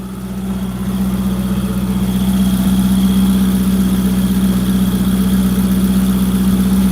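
A Ferrari 488 GTB turbocharged sports car engine idles steadily and close by, a constant low rumble with a slight vibration and no voices.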